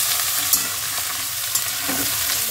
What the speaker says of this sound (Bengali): পেঁয়াজগুলো হালকা রং আসা অবধি ভেজে নেবে